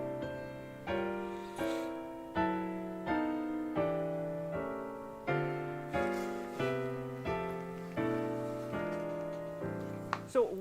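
Guitar playing a 2-5-1 chord progression, a steady series of strummed or plucked chords changing about every second, each ringing and decaying, clear and close with no talking.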